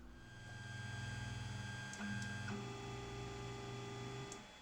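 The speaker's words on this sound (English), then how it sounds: "Let's do a home sequence on this printer and see if everything" A Creality Ender 5 3D printer fitted with linear rails runs its homing sequence, its stepper motors whining in steady tones that shift pitch as each axis moves, with faint clicks at the endstops and no talking.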